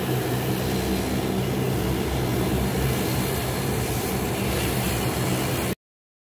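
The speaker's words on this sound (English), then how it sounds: "this is the first aircraft that they're using the sea turtle picture on it" A Jambo Jet airliner's engines at Lamu airport, Kenya, give a loud, continuous broadband roar that holds steady throughout and then stops abruptly.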